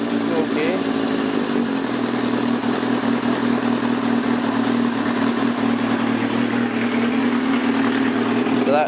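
A Yamaha XJR1300 motorcycle engine idling steadily just after its first start, a continuous low rumbling drone with slight unevenness, close and loud throughout.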